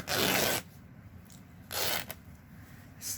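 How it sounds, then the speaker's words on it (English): Fabric torn by hand while making a small folio card holder and coin purse, three rough ripping bursts, a long one, a second after a pause, and a short final tear, close and alone. "Okay, so I'm gonna rip it here."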